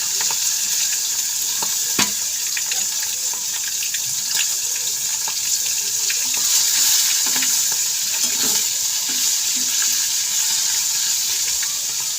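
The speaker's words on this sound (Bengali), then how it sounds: "এই যে চিংড়ি মাছ তেলে দেওয়া" Shrimp frying in hot oil, a steady dense sizzle throughout with occasional sharper pops and crackles, close and loud with no talking.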